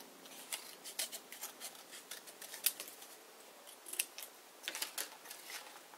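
Scissors snip through excess craft paper in quick, irregular bursts of crisp cuts, close and fairly soft, with small rustles of paper handling between strokes.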